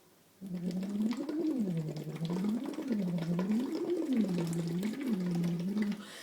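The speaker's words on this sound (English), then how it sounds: "you blow like this and you make bubbles in your tube like this" Steady bubbling gurgle of air blown through a lax vox tube into water, a continuous wavering burble lasting several seconds, close and fairly loud.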